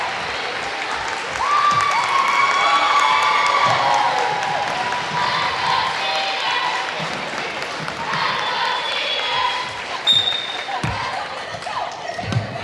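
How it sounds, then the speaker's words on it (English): A crowd in a gym applauds senior players during a girls' basketball game. There is a sustained wash of clapping with cheers and a squeaking sneaker, then it thins out into gym chatter and bouncing thuds. "they're going to send in 5 players to get the seniors a quick round of applause"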